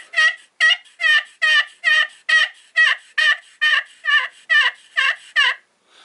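Hen yelps played on a pot turkey call: about a dozen evenly spaced, rasping yelps in a steady rhythm, close and clear, with nothing behind them.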